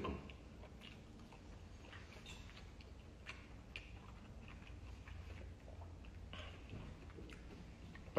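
Faint, close chewing of food in a home kitchen, with soft irregular clicks and mouth sounds spread over several seconds and no talk.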